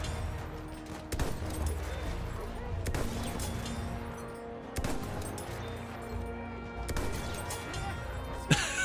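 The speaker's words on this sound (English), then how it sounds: "That's some nice sniping there." Sniper rifle gunfire in Battlefield 1, a handful of sharp, loud shots spaced a few seconds apart over dense battlefield noise and game music, with no talk.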